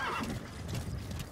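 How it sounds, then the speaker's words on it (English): Horse in Metal Gear Solid 5 gives a faint, short neigh, soft and somewhat distant over a steady low background. "Oh, I got to call my horse."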